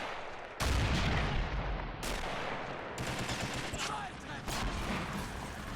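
Artillery and gunfire from the Army Men Battle Simulator war game come as four sharp booming blasts, each falling into a rumbling wash of continuous combat noise.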